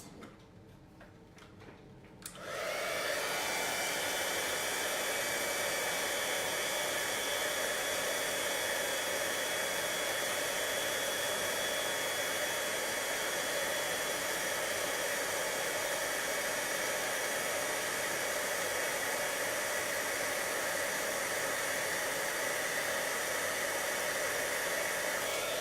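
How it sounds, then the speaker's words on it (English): A heat tool blows steadily and close by, heat-setting embossing powder on a vellum card, a continuous airy whoosh that starts after a brief quiet moment and holds unchanged to the end. "I'm just going to quickly heat set this."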